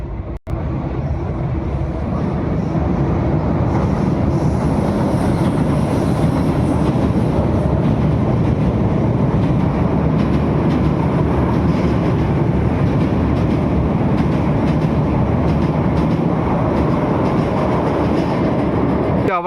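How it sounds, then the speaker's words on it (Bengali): An Indian Railways train passes close by with a loud, steady rumble and rattling wheel clatter that runs the whole length, with no voices over it. "বন্ধুরা এই যে ট্রেন আসতেছে, ট্রেনে আসার দৃশ্যটা আপনাদেরকে আমি দেখাচ্ছি"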